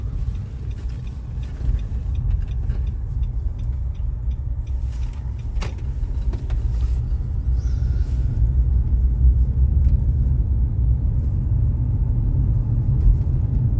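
Steady low road rumble and engine drone inside a moving car in Dnipro, loud and continuous, with a few faint clicks and rattles over it and no talking.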